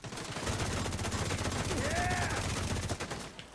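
Rapid automatic gunfire in a shooter video game, dense continuous bursts throughout, fairly faint, with a short rising whistle partway through.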